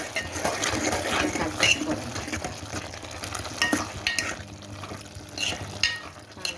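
A spoon stirs pesara pappu and bottle gourd curry seasoned with chilli powder, giving irregular scraping and wet mixing sounds close by, under a steady background hum and occasional voices.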